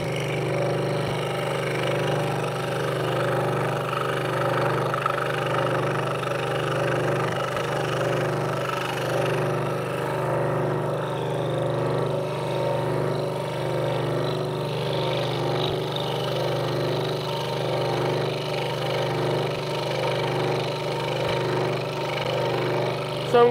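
A power saw in a wood shop runs with a steady, loud mechanical hum while a piece of wood is fed slowly through the spinning blade. The whine holds constant for the whole stretch with no break.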